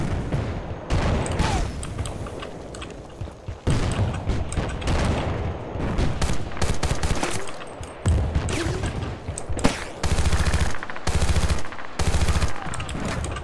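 Sustained machine gun fire in the Battlefield 2 video game, loud rapid bursts with heavy booming impacts repeating through the whole stretch, with short gaps between volleys.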